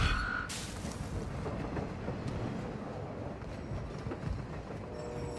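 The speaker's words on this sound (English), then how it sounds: "Did he just get back on the train?" Train rolling along rails in Call of Duty, a steady rumbling clatter with a brief higher tone at the start, sustained and fairly close throughout.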